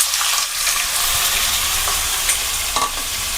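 Paneer cubes sizzle loudly in hot oil and ghee, a steady dense crackle of frying for a few seconds with small pops and stirring scrapes, no voices.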